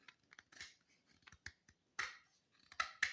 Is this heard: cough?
no